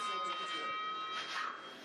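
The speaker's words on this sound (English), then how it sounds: "The bell rings, the shield comes down for Austria's Reinhard Eger." At the Oberhof luge track, during a men's World Cup run, the start bell rings as a steady electric tone throughout, heard beneath a commentator talking over it.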